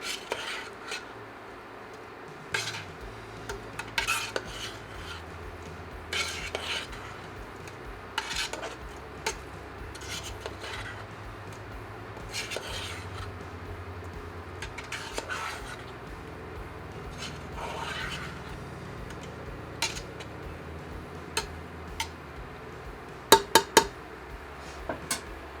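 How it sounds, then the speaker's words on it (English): A spoon stirs frozen corn into a pot of vegetable beef soup, giving repeated scraping clinks of metal against the pot in an irregular rhythm, close and fairly quiet, with a few sharper knocks near the end. "Stir."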